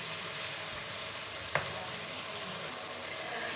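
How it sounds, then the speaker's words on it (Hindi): Potatoes frying in spice masala in a pan for an aloo baingan dish, giving a steady close sizzle throughout with one brief sharp tap or stir sound partway through. "आलूओं को अब 1 से 2 मिनट के लिए फ्राई करेंगे,"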